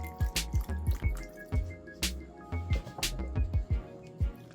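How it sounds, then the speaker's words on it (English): Broth is poured over jackfruit in a cooking pot, giving close, quick wet drips and splashes in an uneven rhythm, with a faint ringing of the pot under them. "So add just a little more broth, and you put in just enough to cover the jackfruit."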